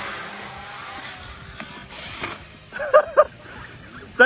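An Arrma Fireteam RC car lands a big outdoor jump near trees, its tires scuffing and whirring in a steady noisy rush broken by a few sharp, louder bursts toward the end.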